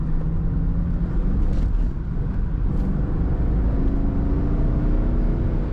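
A 2013 Chevrolet Camaro 2SS convertible accelerating, a loud, low engine rumble with road and wind roar heard from inside the car, steady with a slight rise in tone.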